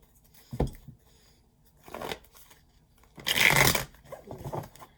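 Tarot cards riffled and shuffled in several short bursts, crisp and close, with one longer flurry near the end.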